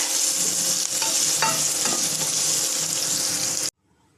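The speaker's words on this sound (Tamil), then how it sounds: "நல்லா போட்டு கருவேப்பிலை கொஞ்சம் நல்லா வதக்கிக்கலாம்." Curry leaves and onion sautéing in hot oil in a rice cooker, giving a loud, steady close sizzle with a few stirring scrapes before it cuts off abruptly.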